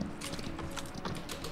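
Horse hooves in the video game PUBG clip-clop in a quick, steady rhythm, fairly faint, with no talking.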